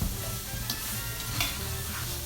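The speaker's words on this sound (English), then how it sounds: "I'm browning up the onions just a little bit and the celery" Onions and celery browning in a hot pan, a steady, loud close sizzle with occasional stirring scrapes throughout.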